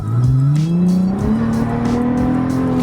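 An Infiniti G35 with its muffler deleted roars loudly and close, its exhaust note rising steadily in pitch as it accelerates, with a rough, throaty rumble.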